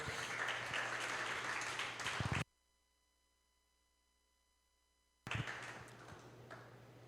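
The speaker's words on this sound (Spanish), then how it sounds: "dale un aplauso al Señor, por favor" A church congregation claps during a sermon, dense applause that cuts to near silence midway, then resumes and gradually tapers.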